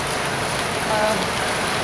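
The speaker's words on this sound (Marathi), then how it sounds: "पाऊस आहे पुरी रात्र पण आणि पुरा दिवस पण पाऊस आहे चालूच आहे पाऊस" Steady, dense rain hisses continuously with no pauses, a constant wash of falling water close by.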